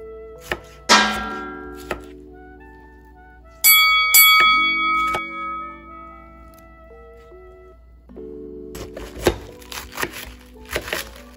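A knife chops tomato into small pieces on a board for a sardine and cabbage curry, with sharp, close taps in short clusters and sustained tonal music in between.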